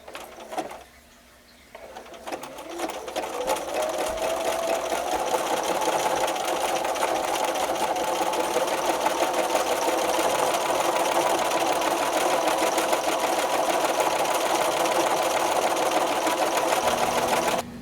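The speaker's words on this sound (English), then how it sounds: "I finished stitching the decorative stitch along each side" Sewing machine stitching a decorative stitch on fabric: after a brief quiet start, the motor ramps up into a continuous fast mechanical whir with rapid needle clatter, close and steady for about fifteen seconds before stopping.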